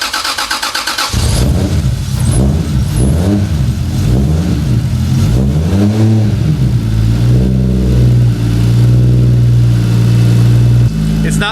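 A Toyota 2JZ-GTE engine from an Aristo, swapped into a MKIII Supra, fires up for the first time after a brief crank, then revs repeatedly with rising and falling tones before settling into a steady, loud idle close by.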